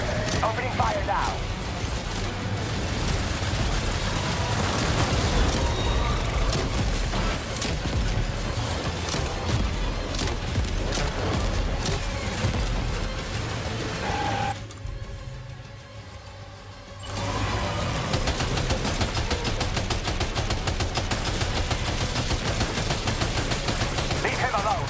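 Death Stranding 2 gunfire: dense, continuous bursts of shots and mechanical clatter, loud and close. They run almost without a break and drop away briefly near the middle, with a voice talking over parts of it.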